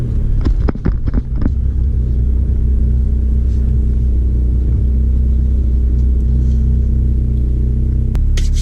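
A 1997 Acura Integra GS is driven a short distance, its engine giving a deep, steady low rumble close by, with a few clicks and knocks early on and a sharp thump near the end.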